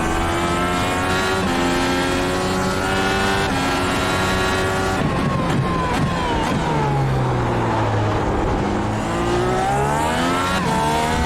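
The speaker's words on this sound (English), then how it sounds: "Oh, bit of wheel spin coming out of the source just there." Dallara IR18 race car in iRacing at Spa-Francorchamps, engine loud and continuous, revving and shifting pitch with wheel spin and tire scrub on corner exit, no voices over it.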